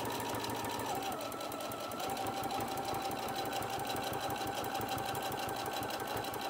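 A sewing machine runs a continuous straight stitch along fabric hot pads, a steady rapid mechanical chatter held at an even level throughout with no pauses, heard close up and alone.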